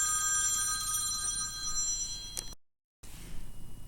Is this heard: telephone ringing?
yes